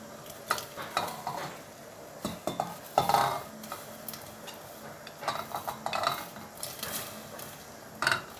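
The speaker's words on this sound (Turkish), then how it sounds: "doğramış olduğum incirlerimi şerbetimin içine döküyorum" Chopped figs tumbling into a pot of syrup for fig jam with soft splashes and clinks of a utensil against the pan, in bursts over a few seconds.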